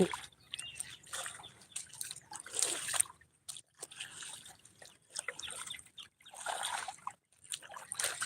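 Water trickles and splashes in uneven bursts, close by, with brief pauses between gushes and no talking.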